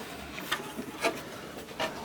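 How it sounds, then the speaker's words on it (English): A Dremel drum sander grinds a plastic toy wheel for a 1988 GI Joe Rolling Thunder restoration, with three or four short close rasping passes separated by brief quiet gaps. "used the Dremel drum sander, sanded it down"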